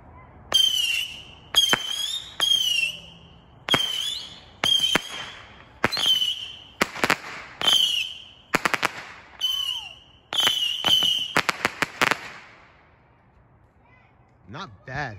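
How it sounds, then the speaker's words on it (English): A TNT 25-shot Saturn missile fireworks battery fires a rapid series of whistling missiles, each a sharp crack followed by a high screaming whistle, coming in quick irregular bursts and then tapering into quiet near the end. "TNT 25 shot Saturn missile."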